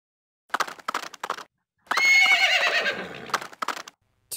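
A horse whinnies loudly in a long, wavering neigh, with short bursts of snorting or hoof sounds just before and after.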